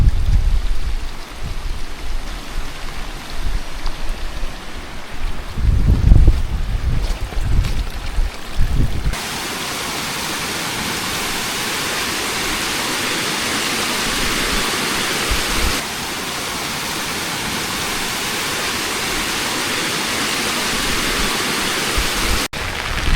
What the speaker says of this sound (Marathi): जास्त हवा आणि पाऊस चालू आहे सध्या.